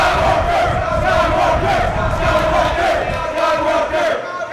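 A wrestling crowd at a Coastal Empire Wrestling show roars and chants for Chad Skywalker, loud and sustained with a rhythmic pulse throughout.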